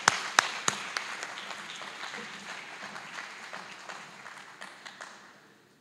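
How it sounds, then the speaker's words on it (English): Audience applause at a graduation ceremony, sustained clapping from a crowd in a hall with a few sharp loud claps at the start, gradually fading over several seconds. "Let's give round applause again to Judge Kasabahai."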